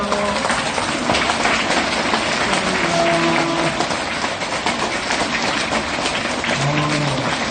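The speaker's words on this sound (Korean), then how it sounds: "큰 박수 부탁드립니다" A crowd claps continuously at a Korean Buddhist ceremony honouring newly recognised Jeongto bodhisattvas during a bouquet presentation; dense, even clapping runs the full length with faint tonal sounds mixed in.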